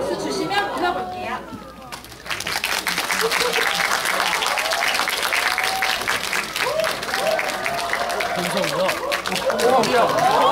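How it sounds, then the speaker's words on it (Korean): A Friday-evening cinema audience at a stage greeting for the Korean film The Accidental Detective applauds as the director and two lead actors come out, with dense clapping and crowd chatter building after a brief lull and sustaining loudly throughout. "박수 주시면 모셔볼게요."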